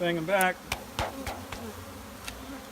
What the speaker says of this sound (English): So now we've got all these bees. They're surrounding the queen.